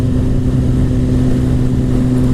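2017 Suzuki GSX-R1000 motorcycle with an aftermarket exhaust can cruising in sixth gear around 4,000 rpm, a loud, steady engine drone close to the rider.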